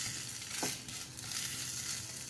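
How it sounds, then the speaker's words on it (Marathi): Thalipeeth sizzles in a small amount of oil in a pan, a steady close-up crackling hiss with a brief clink partway through. "तर थोड्या थोड्या तेलात मी भाजून घेणार आहे"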